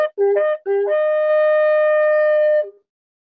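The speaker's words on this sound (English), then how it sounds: "And this is a shofar." A shofar, a ram's horn, is blown nearby: a few short, loud blasts that step between two pitches, then one long, bright, sustained note that cuts off sharply, with no talking.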